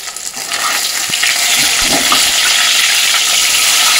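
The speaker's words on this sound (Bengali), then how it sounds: "দেখো মাছগুলো ভাজতে দিয়ে দিয়েছি" Fish pieces frying in hot oil in a home kitchen, a steady broadband sizzle that builds after the first half-second and holds loud and continuous, with a few faint pops and no talking.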